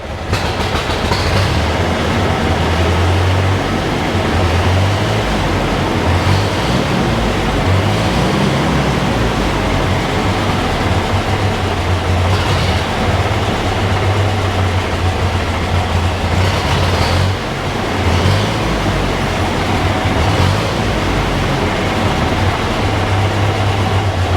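An Allis Chalmers Model D motor grader engine idles with the choke fully off after a carburetor cleaning, giving a loud, steady, low rumbling drone that runs unbroken throughout.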